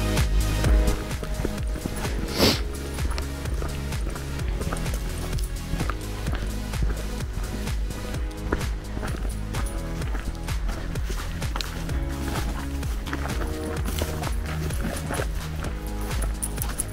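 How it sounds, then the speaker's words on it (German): Horse hooves clip-clop steadily and rhythmically nearby, a continuous trotting patter over faint outdoor noise. "Das ist ein Pferd."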